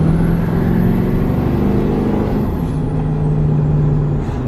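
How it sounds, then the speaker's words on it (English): A Cummins-powered Nissan Titan truck with a new oil catch can and a custom air intake gives a loud, continuous engine drone with a steady low hum and airy intake rush close to the microphone, without pauses. "I want you to hear this air intake because it is just such a cool sound."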